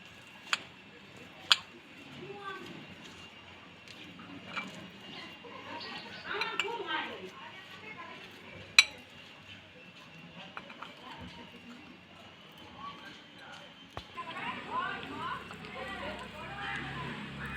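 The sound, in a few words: spoon mixing wood apple in a bowl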